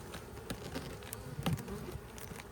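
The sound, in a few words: bees buzzing during a colony inspection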